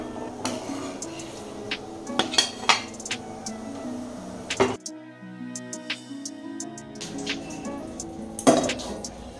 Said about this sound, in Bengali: কড়াইটা ধুয়ে নিলাম।